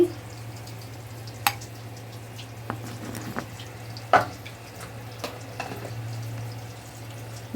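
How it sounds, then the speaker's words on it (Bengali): Potatoes and onions fry in oil tempered with cumin seeds and bay leaf, giving a soft steady sizzle with scattered sharp clicks of stirring over a constant low electrical hum. "জিরে তেজপাতা ফোড়ন দিয়ে আলু পেঁয়াজ দিয়ে ভাজছি ভালো করে।"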